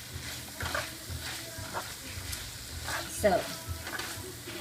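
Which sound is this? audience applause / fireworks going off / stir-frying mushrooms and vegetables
stir-frying mushrooms and vegetables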